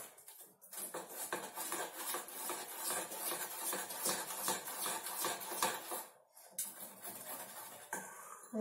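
A mixture is stirred in a bowl with steady, rhythmic scraping and clinking strokes of a utensil against the sides. The strokes are close and continuous, with one short pause, and no one talks.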